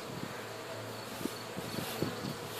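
Bees swarm and hum at an open, brood-filled hive, a soft steady drone with a few faint bumps and rustles, no voices.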